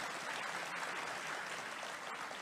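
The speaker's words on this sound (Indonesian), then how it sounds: "Mari kita berikan tepuk tangan sekali lagi ke Pak Anies." Steady applause from a political rally audience in Indonesia, a dense even wash of clapping at moderate level with no talk over it.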